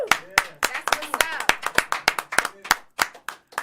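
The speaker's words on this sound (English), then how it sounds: "A round of applause for everybody in the room for this legend" A small group in a studio room claps for a guest with close, sharp individual claps in an uneven rhythm and talking mixed in.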